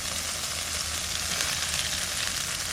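Ground cumin and coriander paste, chilli paste, dried red chilli paste and tomato fry in oil for a village-style potato dum, a steady close sizzle running throughout, ending with a single sharp clink of a utensil.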